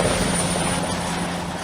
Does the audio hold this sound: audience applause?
no